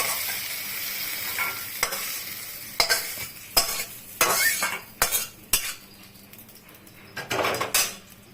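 Metal spoon scraping and clinking in a pan as cooked soybean chunks are lifted out, irregular clatters over a soft sizzle of frying, close and fairly loud.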